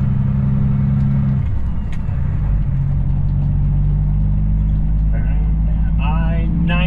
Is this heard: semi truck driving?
yes